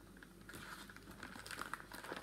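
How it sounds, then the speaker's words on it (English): Plastic packaging crinkles softly nearby, a steady faint rustle with small crackly peaks as it is handled. "sorry about the crinkling."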